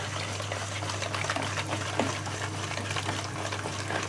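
Buttermilk poured into coffee cake batter in a kitchen, making a steady, soft liquid trickle and splash against a constant low hum, with no speech.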